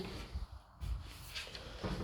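Wardrobe drawers and doors being opened and closed in a room, a few soft thuds and sliding bumps spaced unevenly, fairly quiet with low room noise and no talk.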